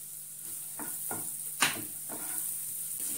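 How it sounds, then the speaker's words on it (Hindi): Finely chopped onion frying in a pan for paneer butter masala, giving a steady bright sizzle with a few soft stirring scrapes and one sharper clink near the middle. "अब हम इसमें बारीक कटा हुआ प्याज डाल रहे हैं।"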